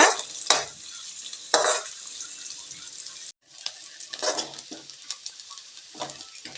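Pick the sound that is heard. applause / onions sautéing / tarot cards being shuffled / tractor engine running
onions sautéing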